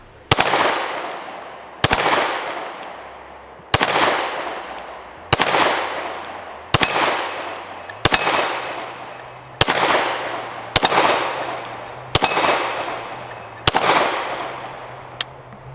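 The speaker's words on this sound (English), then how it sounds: "we'll do some more shooting and see what happens here" Ten sharp, loud gunshots from a PSA Dagger 80% pistol fired at a steel plate, spaced about a second and a half apart with a few shorter gaps, each followed by a brief ringing decay.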